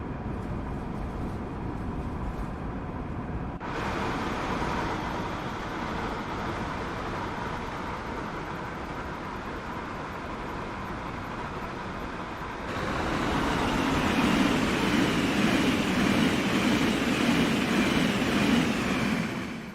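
Train cars rolling past in Train Sim World 3 near Trenton, New York line: a steady rumbling, rushing wash of rail noise that jumps louder and fuller partway through, then drops off abruptly at the end.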